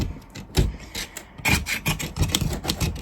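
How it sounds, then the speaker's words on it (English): Scraping glued battery foam off the chassis of a Team Associated Pro2 SC10 RTR RC short-course truck, heard as a string of close, rough rasping strokes with a brief pause near the start. "We're just gonna do a little scrapey scrape."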